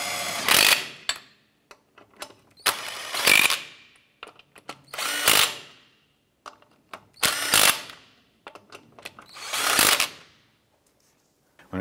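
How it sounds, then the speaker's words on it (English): A power tool snugs down the wheel lug nuts on a Chevy S10, with about six separate loud whirring bursts, each rising and then cutting off, separated by quiet gaps and a few light metallic clicks. "We're gonna get all of our lug nuts started by hand first. Once we get these on, we'll go ahead and snug them down."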